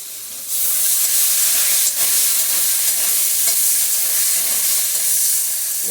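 Salted hilsa fish fries in a pan with salt and turmeric. A loud, steady sizzling hiss starts abruptly and holds close and even throughout, with no voices.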